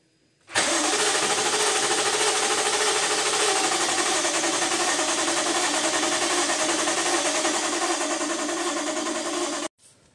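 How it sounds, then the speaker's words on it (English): A cold BMW N63 V8 engine cranking without firing: a steady, continuous starter whir for about nine seconds, close and loud, starting and stopping abruptly. "We'll do crank no start"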